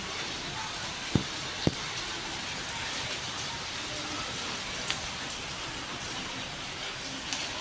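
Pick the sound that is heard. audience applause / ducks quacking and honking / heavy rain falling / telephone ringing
heavy rain falling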